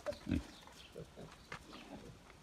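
Hungarian Mangalica pigs, a boar and a sow, give a short, loud grunt near the start, followed by softer scattered grunts and snuffles at close range.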